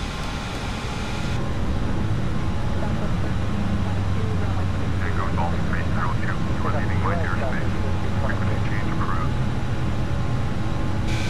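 Airbus airliner taking off in a flight simulator game, a steady, loud jet engine roar that swells early and holds throughout, with a voice talking over it midway.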